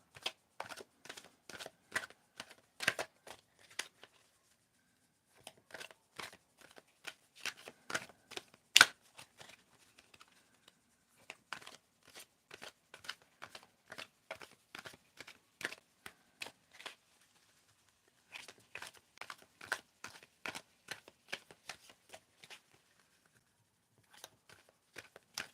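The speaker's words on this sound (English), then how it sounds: "Tell me when to stop shuffling, Glenn." Tarot cards being shuffled by hand in a quiet room, crisp riffling bursts repeating in quick rhythmic runs separated by short pauses, close and alone with no talking.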